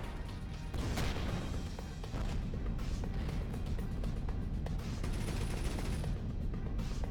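Spaceship guns fire in the space game Avorion as a dense, continuous barrage of rapid bursts and blasts over a loud rumbling background, with no pauses.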